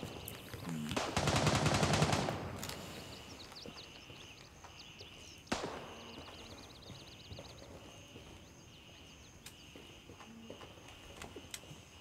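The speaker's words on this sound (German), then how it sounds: "Ah, hier wird geschossen." Burst of gunfire from a firefight in the military shooter Gray Zone Warfare, a dense rattling volley early on, then a single sharp report and scattered distant shots over quiet ambience.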